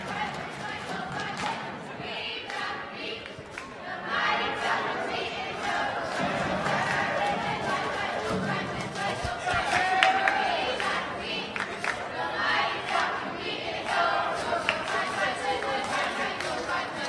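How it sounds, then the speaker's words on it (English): Crowd noise and scattered cheering from fans at an 8th-grade boys junior high basketball game in a gymnasium, a steady indoor murmur with brief swells and a voice talking over it. "And the fans doing a little cheering in the background there."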